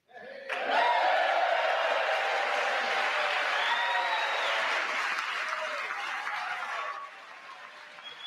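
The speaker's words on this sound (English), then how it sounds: "What an applause for Melania." Sustained loud applause and cheering from a large State of the Union audience greeting the First Lady, Melania, rising abruptly and holding steady for several seconds before easing slightly near the end.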